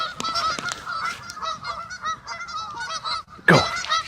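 A flock of geese honks loudly and repeatedly nearby, with overlapping calls, and one sharp, close honk stands out near the end.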